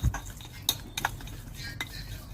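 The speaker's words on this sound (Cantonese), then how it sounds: "跟住將佢放入碗內， 用筷子將佢攪勻，" Chopsticks whisking minced meat in a bowl, a few light clinks and taps against the dish over a faint continuous background hum.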